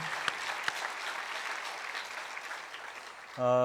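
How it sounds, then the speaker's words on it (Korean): A church congregation claps steadily through a worship service, a dense even patter of applause filling the room before a voice cuts in at the end. "darle un gran aplauso a los remanentes que han venido"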